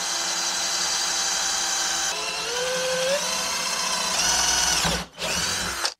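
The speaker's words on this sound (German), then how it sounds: "Und jetzt bohre ich einfach nur mit dem Akkuschrauber hier in dieses Loch rein." A cordless drill bores a hole into a plate during a brushless conversion of a Reely Maximus XL, whining steadily and loudly with rising pitch changes, then stopping briefly and restarting before cutting off.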